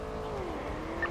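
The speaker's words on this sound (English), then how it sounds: "Why is that car so fucking loud?" A loud car engine in a video game, a steady, close drone with no talking.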